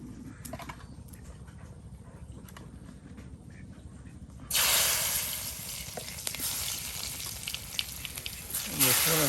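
Bay leaf and cumin seeds hit hot oil at a riverside village cookout, bursting into a loud, steady sizzle partway through after a quieter stretch of background noise.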